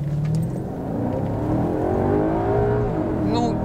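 A Maserati sports car's engine in sport mode rises in pitch as it revs and accelerates, a loud continuous drone heard from inside the cabin with talking over it.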